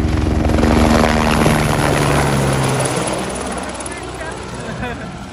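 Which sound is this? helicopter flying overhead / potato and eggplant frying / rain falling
helicopter flying overhead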